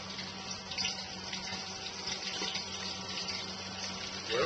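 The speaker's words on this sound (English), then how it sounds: "Let them boil, let them cook about 10 minutes aside. You can hear that going." A pot of food boils on a Bayou Classic dual-burner outdoor gas patio stove, giving a steady, close bubbling and watery rush that runs unbroken with no talk.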